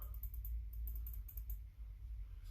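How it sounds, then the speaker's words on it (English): Quiet, rapid clicking of a computer mouse button, a run of small sharp clicks over a low background hum. "I'm sure you can hear the clicking from the button."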